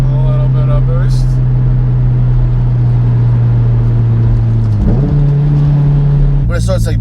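A turbocharged Mitsubishi Evo X with a 6266 Gen 2 turbo drones loudly from inside the car, holding a steady engine tone that dips briefly and then climbs as boost builds, with turbo whistle and flutter bursts near the end.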